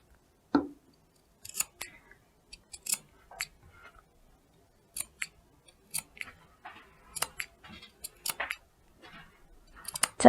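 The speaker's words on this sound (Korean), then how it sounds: "거의 끝까지 가서 가위밥을 넣어주고 그 다음에 양쪽 모서리 이렇게 또 가위밥을 넣어줍니다." Scissors snip notches into the fabric seam allowance of a sewn loungewear dress, giving a string of short, crisp, close cuts in irregular bursts with brief pauses between them.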